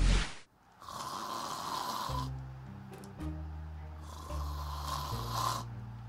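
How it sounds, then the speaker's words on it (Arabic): A man snores loudly in a series of long, rasping, rumbling breaths, each drawn-out snore followed by a pause, close and clear with no talk over it. "ذا ازعجنا بشخيره"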